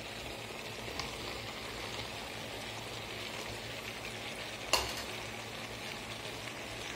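Chicken stroganoff with cream and corn being stirred in a pan, a steady soft sizzle with scraping, one sharp knock of the utensil near the end, no voices.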